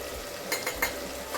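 Vegetables and spices fry in oil for Kathiyawadi undhiyu, a soft steady sizzle broken by a few quick stirring scrapes of a spoon against the pan.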